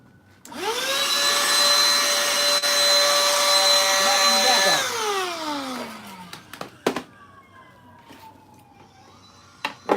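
A Black and Decker Pivot lithium handheld vacuum cleaner whirs at a high pitch for about four seconds, then winds down, followed by scattered handling clicks.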